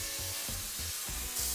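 Steaks searing in oil in a pan after a salt and pepper seasoning and marinade, a steady bright sizzle and hiss with soft low thumps from handling the meat recurring every few tenths of a second.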